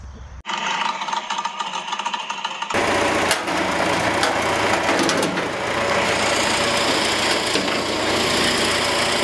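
A small, freshly assembled motor runs with a steady buzzing whir that jumps noticeably louder a few seconds in and then holds a dense, rattly drone close by, with no talking.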